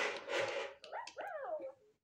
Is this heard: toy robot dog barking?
yes